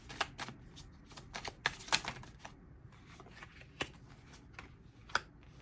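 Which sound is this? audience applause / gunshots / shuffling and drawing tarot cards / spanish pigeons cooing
shuffling and drawing tarot cards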